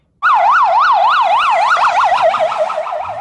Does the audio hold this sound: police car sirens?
yes